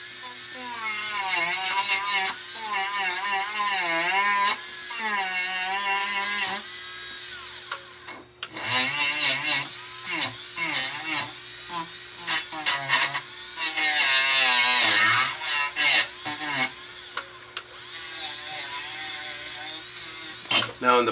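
A jeweler's high-speed rotary bench tool grinds glue off a metal jewelry feather, a loud whining buzz that rises and dips in pitch as pressure changes, with brief pauses.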